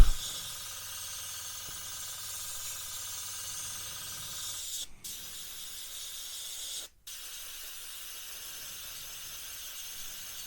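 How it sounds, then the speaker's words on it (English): A steady, quiet spray hiss runs while the roof of a Hobby Boss M1070 Oshkosh HETS model truck gets a mottled coat, broken by two brief pauses before carrying on. "just spray a little mottled coat down."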